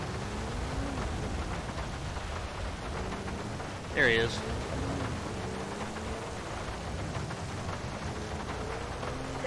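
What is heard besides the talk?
rain and thunder in a video game, GTA V LSPDFR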